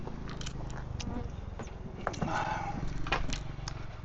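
Close up, a cat chews salted fish, giving soft, irregular bites and crunches over a quiet background.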